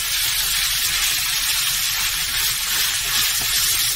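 Steak searing in a hot pan on the stove, a dense, continuous sizzle and crackle of fat, close and steady throughout with no voices.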